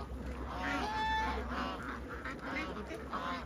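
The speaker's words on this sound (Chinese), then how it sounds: "那个鸭子又回来了，傻傻的往前走，还不想进来" A flock of ducks in a duck pen quacks and honks in a dense, continuous chorus at close range, over a low steady rumble.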